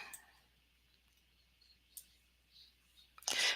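Faint, sparse clicks from a computer mouse in a quiet room, a few light taps spread out and ending in a louder burst of clicking.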